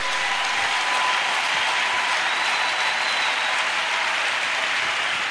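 A church congregation at a sermon breaks into sustained applause, a dense, continuous wash of many hands clapping at a steady, loud level throughout.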